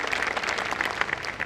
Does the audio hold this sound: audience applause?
yes